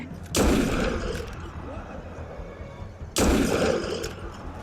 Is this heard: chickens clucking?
no